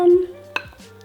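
A metal spoon drags and taps once against a pot of spinach and lemon orzo pasta during a brief stir, a soft clink over faint kitchen hum.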